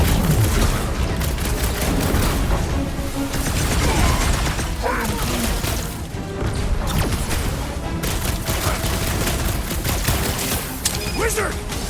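Gunfire in the action video game Marvel's Guardians of the Galaxy, dense overlapping shots and blasts over a continuous loud battle mix with music and in-game voices.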